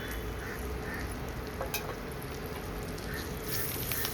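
Sliced onion and chopped green chilli sautéing in oil in a pan, a steady close sizzle and crackle throughout with faint stirring scrapes.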